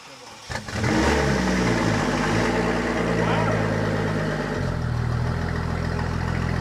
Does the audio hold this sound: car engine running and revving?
yes